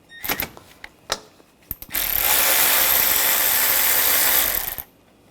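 A 13mm socket wrench loosening a nut on a Buick Encore during radiator replacement: a few sharp metallic clicks, then a dense, steady ratcheting whir for about three seconds before it stops.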